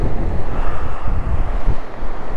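Sea waves rush steadily onto the rocky Batangas City shore near a stone breakwater, a continuous roar of surf mixed with heavy wind buffeting the microphone, with no voices.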